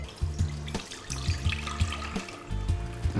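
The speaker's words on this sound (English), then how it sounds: "I'm going to take it out of the liquid, just drain it off." Cooking liquid drains off a venison shoulder in a kitchen, a close, uneven run of splashing and trickling with short gurgling pulses and brief drips.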